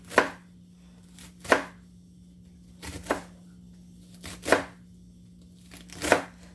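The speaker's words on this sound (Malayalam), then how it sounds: "ഇനി നമുക്ക് ക്യാബേജും ക്യാരറ്റ് അരിഞ്ഞ പോലെ തന്നെ സ്ലൈസായി സ്റ്റിക്കായിട്ട് കട്ട് ചെയ്തെടുക്കണം" Cabbage and carrot being cut into sticks with a knife on a cutting board, heard as six crisp chops spaced about a second apart, some doubled, close and clear against a quiet low hum with no talking.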